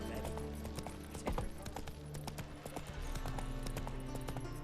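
Roach, Geralt's horse in The Witcher 3, trots along in a steady clip-clop of hooves over continuous game ambience, with a brief louder swell partway through.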